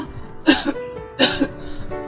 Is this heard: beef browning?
no